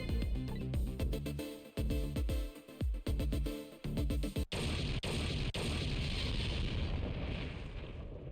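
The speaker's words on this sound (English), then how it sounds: "I think I heard an explosion somewhere." An explosion in the video game Ghost Trick: Phantom Detective: layered game sound and hits give way to a loud, sustained roaring blast from mid-clip on, fading slowly toward the end.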